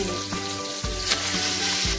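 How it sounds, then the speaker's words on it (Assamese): Fish frying in a pan in a home kitchen, a close, steady hiss and crackle of hot oil with a few soft bumps of the pan or spatula, no voices. "ইয়াতে মাছ ভাজি আছে"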